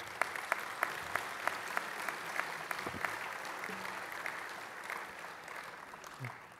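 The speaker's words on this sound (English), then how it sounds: "So please give her a round of applause" A room breaks into applause at a 2010 bicycle Hall of Fame induction ceremony, the clapping sustained and fairly soft, with a few sharper claps standing out early before it gradually thins.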